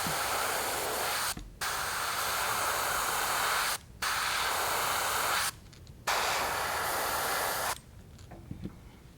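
An airbrush lays down a second coat of paint on a perch pattern, three steady hissing bursts broken by short pauses, close and alone, before the spray cuts off and faint handling noises remain.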